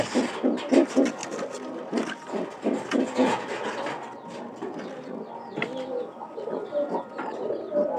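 Pigeons coo close by in low, throaty, repeated rolls, overlapping with fluttering and soft rustling movement.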